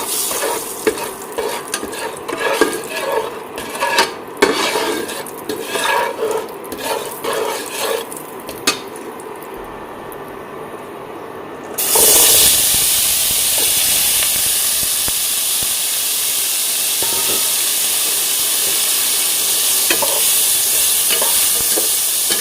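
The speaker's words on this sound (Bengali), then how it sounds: "তেলটা গরম হয়ে গেছে। এবার তেলের উপরে আমি লবণ আর হলুদ গুঁড়ো একটু দিয়ে দেবো।" Salt and turmeric tipped into hot white oil in a pan, quiet clinks and handling at first, then a sudden loud burst of hissing sizzle that holds steady, close by.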